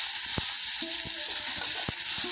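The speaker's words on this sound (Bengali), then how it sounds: "এখন আমি ফোড়নে দিয়ে দিচ্ছি কালো জিরে আদা আর কাঁচা লঙ্কাটা এখন আমি দিয়ে দিচ্ছি টমেটো কুচি" Chopped tomato sizzles in a pan of hot oil tempered with black cumin, ginger and green chilli, a steady close frying hiss broken by a few sharp clinks and spatters.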